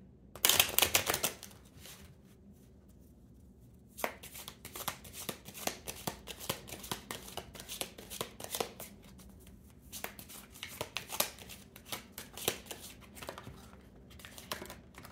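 Tarot cards being shuffled by hand, a steady run of close, crisp riffling and flicking clatters with brief pauses, quiet and alone without talk.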